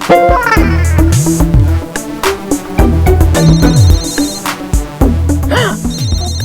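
A phone ringtone plays loudly, a bright electronic melody repeating in short looping phrases with rising chimes, no talking.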